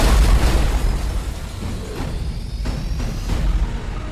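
Bombs explode in a film action scene, with a heavy low boom at the start that rumbles on as loud, rolling blast noise and debris, no speech.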